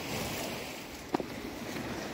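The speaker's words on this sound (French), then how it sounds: "Il y a les ressacs qui amènent l'eau jusque là, regardez." Sea waves surge into a rocky coastal pool cut into the rock, a steady broad wash of surf and backwash with one brief splash midway, heard nearby with some wind.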